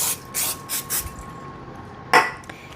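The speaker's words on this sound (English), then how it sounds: "I'm gonna spray this cookie sheet" Three short hissing bursts of cooking spray onto a cookie sheet, followed by a quieter pause and then a sharp metallic clatter of a pan close by.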